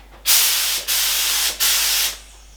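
Three short bursts of spray paint hiss close up while curtains in the Nissan Silvia S14 drift car project get a coat of black, each burst loud and steady with brief gaps between.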